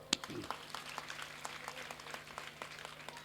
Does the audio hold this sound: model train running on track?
no